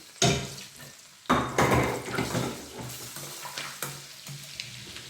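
Garlic ginger paste sizzling and frying in a hot pan, with stirring scrapes and a few utensil clinks, loud bursts easing into steady crackle.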